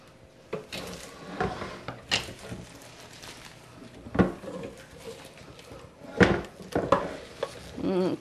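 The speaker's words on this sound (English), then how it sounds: "get a spatula and get that all out here. And just keep stirring that and getting it nice and coated" Coated popcorn stirred with a spatula in a pot, irregular knocks and scrapes against the pot walls, some sharper clunks, close and moderately loud, with brief speech in between.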